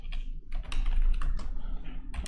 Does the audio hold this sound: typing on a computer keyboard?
yes